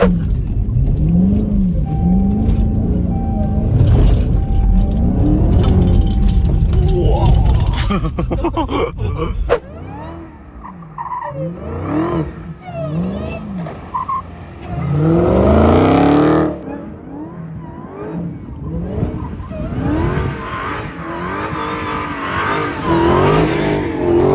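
Dodge Hellcat cars roar and rev hard in an abandoned city, engine pitch sweeping up and down through repeated throttle bursts and slides, loud and close, with a brief drop-off midway and occasional voices underneath.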